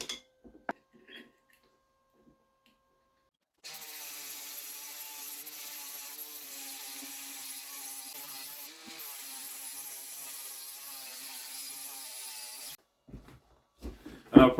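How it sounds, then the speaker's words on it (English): After a near-silent start, an angle grinder fitted with a fine sanding disc whines steadily for about nine seconds while working an axe head, then stops, followed by a few brief knocks and clatters. "Grind up the axe on the grinder and get a decent edge"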